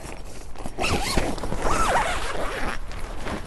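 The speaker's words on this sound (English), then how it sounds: "you could zipper that" A zipper on a trade show booth cover drawn in a couple of quick rasping pulls, close by, with some rustling of fabric around it.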